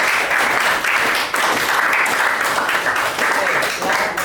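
Classroom applause for a student group after a presentation in a coding and algorithms lesson, a steady dense clatter of many hands clapping for about four seconds, loud and close with a few brief dips.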